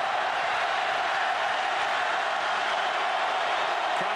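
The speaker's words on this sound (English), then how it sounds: "Crowd coming to life." A packed college football stadium crowd at an Auburn versus Georgia game rises into a dense, steady roar that fills the whole space without pause, loud and continuous with no clear voices standing out.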